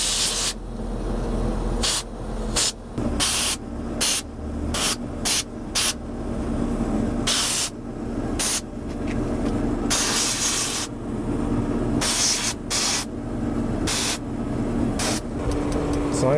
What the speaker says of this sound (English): So here's what I have, some tuner cleaner. You could also use Windex if you didn't have this. I'm just gonna spray this area.